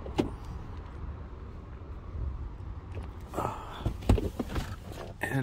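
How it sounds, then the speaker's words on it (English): The front power windows of a 2008 Chrysler Sebring AWD Limited lower, a quiet motor whir under faint outdoor background, followed by a few sharp clicks and bumps near the end. "The two front windows roll down."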